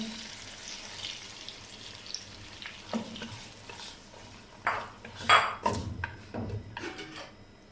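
Yogurt goes into a pot of mutton masala frying for mutton pulao, giving a soft sizzle under clinks and scrapes of a spoon stirring against the pot, with louder bursts of sizzling and clatter near the end.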